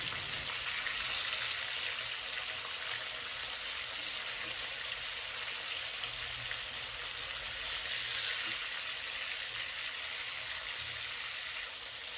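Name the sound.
snakehead fish frying in a wok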